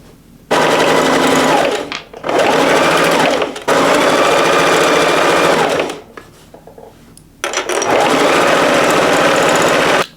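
Sewing machine stitching straps for homemade vinyl grocery bags, running in three loud, steady whirring bursts of a few seconds each, separated by brief pauses, close and alone.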